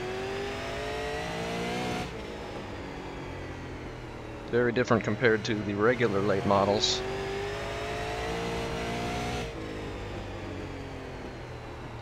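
A super late model race car engine in iRacing on a paved oval at Lanier drones steadily, then revs hard for a couple of seconds in sharp bursts before settling back, while someone talks over it.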